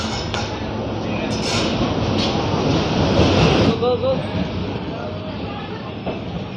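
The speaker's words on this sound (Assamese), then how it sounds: "10:27 ট্ৰেইন আহি গ'ল" A passenger train pulls into a crowded station, a loud, close, continuous rumble with rail clatter that swells and then eases, with people talking over it.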